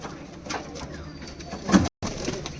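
Giribaz pigeons cooing close by in a loft setting, a few soft throaty coos and rustles with one brief louder burst near the end, over faint background noise.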